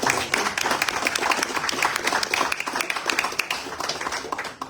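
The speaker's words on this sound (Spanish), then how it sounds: "Ahí un aplauso por favor para nuestro presidente" Applause for a president at a forum on political financing and transparency: steady, dense clapping from an audience, sustained and fairly loud throughout, with no talking over it.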